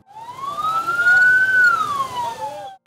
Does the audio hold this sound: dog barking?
no